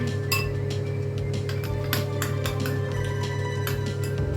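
A spoon clinks against a glass while spices are stirred into a raw mango drink, giving rapid repeated close clinks over a steady background hum.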